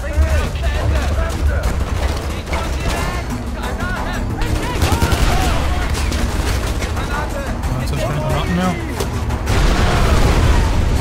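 Grenade explosions and gunfire in the open-world shooter Far Cry 4 form a loud, dense barrage of bursts and booms throughout, with voices talking over the chaos.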